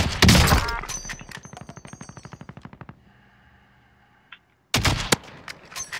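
Gunfire in the video game Call of Duty: Modern Warfare Warzone, a loud close burst of rapid automatic shots fading into a quiet stretch, then another heavy volley.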